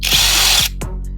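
A cheap cordless brushless impact wrench whirs loudly for a moment, then cuts off, followed by a couple of short rattling bursts as it revs again.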